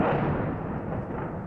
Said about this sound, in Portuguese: Explosões e tiroteios recomeçaram hoje